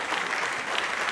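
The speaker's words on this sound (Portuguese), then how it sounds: "Isso merece palmas também." Steady audience applause at a food and hospitality trends event, a dense continuous wash of clapping throughout this short moment with no voices on top.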